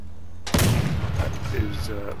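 A fixed cannon in a video game fires once with a loud, abrupt boom after a brief quiet moment, followed by a short rumbling decay and faint tonal game sounds.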